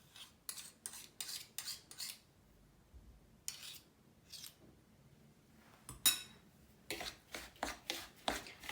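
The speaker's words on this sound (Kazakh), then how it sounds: "Бірінші шанышқымен немесе қасықпен араластыруға болады" A fork or spoon clatters against a bowl while stirring condensed milk into a zhent mixture, in quick bursts of sharp scraping clinks with short pauses between them.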